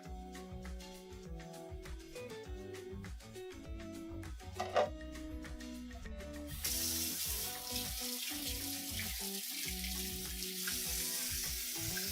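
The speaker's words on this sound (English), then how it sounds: "Cold water in a bowl for our noodles to cool down in" Cold tap water pours into a bowl for cooling noodles in a home kitchen, making a strong, steady rushing hiss that enters partway through over continuous background music.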